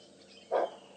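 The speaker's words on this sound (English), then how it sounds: "There, you hear that bark? It was another Nyala that saw him" Single short bark from a nyala antelope giving an alarm call at Djuma Game Reserve, rising abruptly from quiet bush ambience and fading within a fraction of a second, moderately near.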